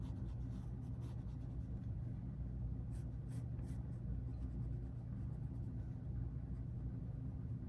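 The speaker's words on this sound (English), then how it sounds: "I am going to go in with my Stabilo pencil here and I'm just gonna kind of sketch in some features" A Stabilo pencil sketches features on paper with soft, faint scratching strokes, set against a steady low rumble of background traffic.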